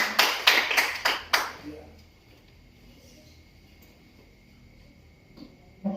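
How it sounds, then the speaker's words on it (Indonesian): A church congregation claps hands during a worship testimony, about six loud, evenly spaced claps in quick succession that stop abruptly, leaving a quiet room with faint background noise. "Tepuk tangan buat Tuhan Yesus."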